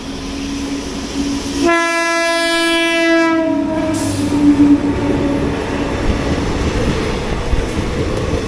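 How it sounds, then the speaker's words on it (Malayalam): A passenger express train on the Ernakulam–Thiruvananthapuram line in Kerala sounds a long, loud horn blast lasting about two seconds, then rumbles and clatters past close by, without talk. "ഇതാണ് എറണാകുളം തിരുവനന്തപുരം വഞ്ചിനാട് എക്സ്പ്രസ്."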